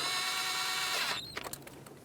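A hand tool snugs the knock sensor bolts on a 2011-2020 Dodge Grand Caravan 3.6L V6. A steady mechanical whir runs for about a second, then a few sharp ratcheting clicks and taps follow, close and clear.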